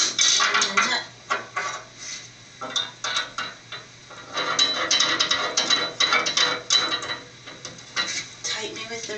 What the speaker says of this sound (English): Tighten it with the ratchet.